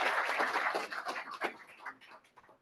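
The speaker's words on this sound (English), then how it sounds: "So just a round of applause for the work that they've been doing" Audience applause at a township committee meeting, a steady patter of clapping hands indoors that gradually thins out and fades over a few seconds.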